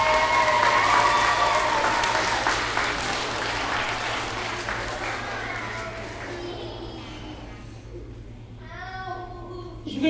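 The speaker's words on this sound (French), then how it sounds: "On les applaudit fort." At a school performance of Sleeping Beauty, the audience applauds a visiting school. The clapping is loud and full at first, then fades out over a low hum, leaving children's voices and chatter at the end.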